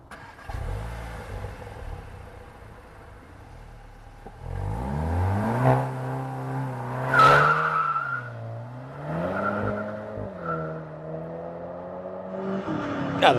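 A 2025 Volkswagen Jetta GLI launching on winter tires in low grip, idle then a sharp rise of engine revs climbing through gear changes, close and loud, with brief tire noise.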